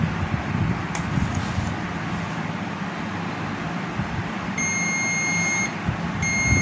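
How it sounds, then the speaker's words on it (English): A multimeter set to continuity beeps steadily while probing a shorted MOSFET removed from an STR power supply board, a thin high tone sounding for about a second, stopping, then returning near the end over background room and traffic noise. "Put the meter on the continuity."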